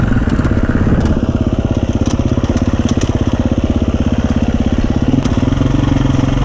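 A 2021 Gas Gas EC350 enduro motorcycle engine runs loud and close, a steady rapid four-stroke thumping pulse holding a constant rhythm throughout with little variation.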